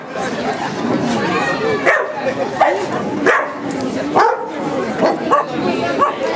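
On the guard command during protection training, a dog barks and yips repeatedly at close range, the barks overlapping with steady human chatter and speech throughout.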